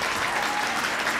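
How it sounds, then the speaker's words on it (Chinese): A crowd gives a burst of loud, dense applause, an even wash of many hands clapping for just over a second. "掌声鼓励一下。"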